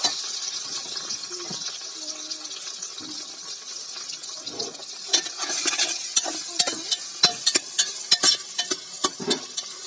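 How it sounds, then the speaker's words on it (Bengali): Meat being browned in a pan with onions and green chilies, a steady sizzle under scattered stirring scrapes and clinks that grow busier and louder toward the end. "মাংসটাকে কষাই নেব দিয়ে দেবো পেঁয়াজ পেঁয়াজ কাঁচামরিচ কষাই নেব"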